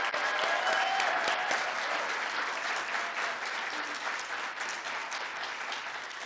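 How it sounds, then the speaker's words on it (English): Sustained applause from a graduation audience for the 2023 graduates, dense steady clapping that holds loud throughout and eases slightly toward the end, with a faint voice briefly at the start. "Let's give them a round of applause."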